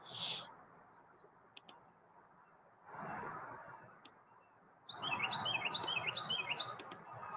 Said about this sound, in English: Red Wing Blackbirds are my favorite too